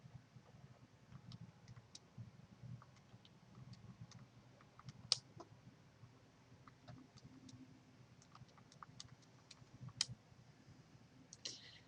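Students in a classroom tap keys on calculators, with light scattered clicks coming from several places and a couple of sharper taps, quiet over faint room noise.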